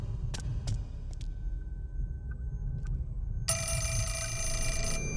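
An old telephone rings in the Fatal Frame: Mask of the Lunar Eclipse video game, played through a Wii Remote speaker: a few short, sharp bell bursts, then a sustained, loud electronic ring near the end, with no talking.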